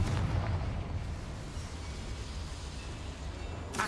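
A Confringo spell explosion in Hogwarts Legacy bursts loudly at the start, then rolls into a sustained rumbling roar that slowly thins out. A fresh crackle rises at the very end.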